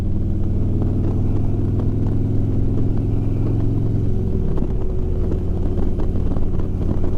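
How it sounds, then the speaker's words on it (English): A motorcycle ridden two-up on the road shifts up and accelerates, its engine droning steadily under strong wind buffeting, the pitch dipping at the shift and then climbing again. "Now I'm going to upshift. I accelerate."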